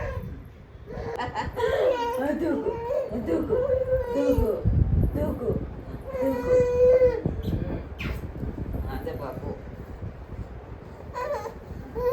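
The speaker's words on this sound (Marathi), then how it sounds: "ते रडायला लागली." An infant cries in short wailing bursts after being teased at home, mixed with adult talk and some laughter nearby.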